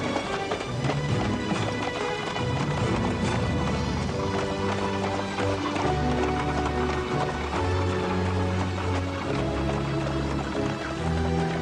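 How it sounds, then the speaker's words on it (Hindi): Galloping horses in an animated Cinderella series drum out a rapid, continuous clatter of hoofbeats. The loud hooves blend with a swelling musical score throughout. "जल्दी मेरे घोड़े तैयार करो"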